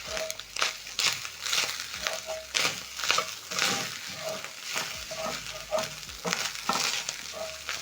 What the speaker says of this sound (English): you're going to mix together with the minced beef and cook for another 30 seconds